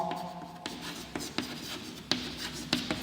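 Pen writing numbers on paper for a class 6 maths lesson: steady scratchy strokes with several sharper taps as digits are marked, close and alone.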